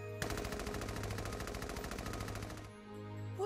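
Sustained rapid-fire gunfire in Valkyria Chronicles 4, a long loud automatic burst of evenly spaced shots lasting about two and a half seconds, cutting off abruptly into a low game background hum.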